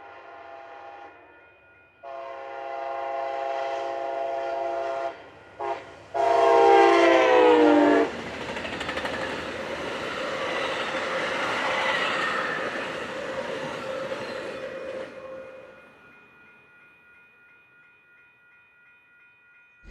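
A train passes near San Jose station, opening with loud, sustained horn blasts that give way to a rising, rumbling roar of passing cars before it fades out; no one speaks.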